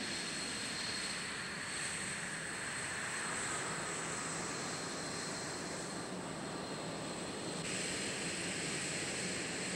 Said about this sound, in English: And Commander Collins will be making approaches to the shuttle shuttle landing facility.